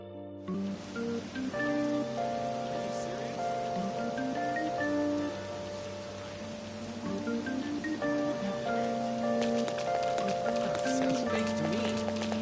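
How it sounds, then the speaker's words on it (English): Steady rain falls throughout a scene in the video game Persona 5, a constant hiss under tonal background music with occasional brighter patter, with no gaps. "It's rained so much."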